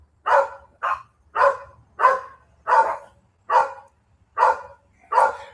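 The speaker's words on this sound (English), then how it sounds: "Now that's Chewy barking." A dog named Chewy barks repeatedly at a squirrel outdoors, eight sharp, loud barks in a steady rhythm with short silent gaps between them, close to the listener and with no one talking.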